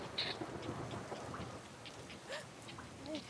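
Stage sound effect of a thunderstorm with steady rain hiss, faint and continuous throughout, with soft rumbling and a few scattered brighter cracks.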